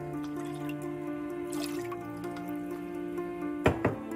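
Apple cider vinegar pours and drips into a measuring cup with soft liquid trickles over a steady tonal hum, ending with a couple of sharper knocks near the finish.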